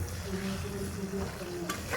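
Pointed gourd (potol) sizzles gently in a pan, a soft continuous frying hiss at low volume with a faint clink near the end.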